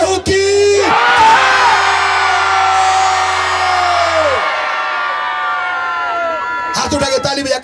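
A congregation at a Hindi-language Christian service shouts praise in one long, loud, sustained group cry that fades over several seconds, followed by a brief burst of crowd noise.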